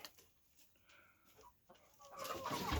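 Naked Neck chickens and roosters cluck softly in a crowded pen, faint low calls scattered through the quiet before a louder rustling swell at the end.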